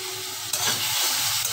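Spice paste fries with chopped tomatoes in a pan for Bengali prawn malaikari, giving a steady close sizzle with a brief stirring scrape partway through.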